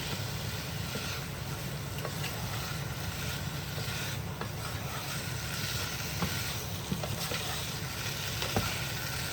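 Boiled potatoes fry and brown in a hot pan with a steady, even sizzle and occasional faint scrapes of stirring, close and continuous, with no talking.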